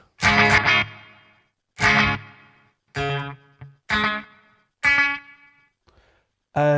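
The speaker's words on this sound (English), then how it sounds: "that seems to be quite a short, springy reverb" Electric guitar through a Revv Generator 120 Mk3 amp head with its built-in short spring reverb on a clean tone: five separate strummed chords, each ringing briefly with a quick springy decay, then near silence before another strum begins.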